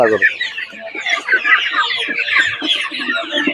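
Several native country chickens cluck and chatter continuously nearby, a steady stream of short overlapping calls.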